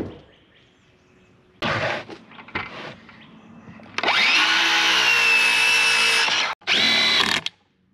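Circular saw with an off bevel setting cutting wood on a building site for an ICF cabin: short bursts of whining blade noise, then a long loud sustained cut and a final brief burst, close by.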